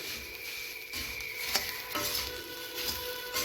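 Sugar is mixed into sweet puffed rice in a hot pan. A dry, rustling stir with a light sizzle runs throughout, and occasional soft scrapes and taps sound close by.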